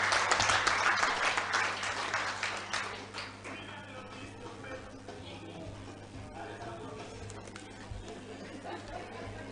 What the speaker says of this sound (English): Round of applause for Mr. Paul Ngotho.